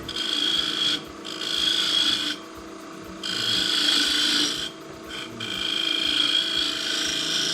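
A woodturning tool riding on spinning wood under heavy pressure, its heel rubbing and bouncing, gives a continuous raspy scraping that rises and drops in several bursts, close and fairly loud.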